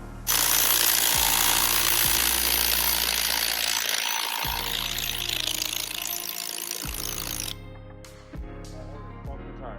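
A loud power tool hammers and rattles continuously against a breaker bar to loosen a car's flywheel during an engine pull, with low thuds underneath and then a sudden stop followed by faint clinks.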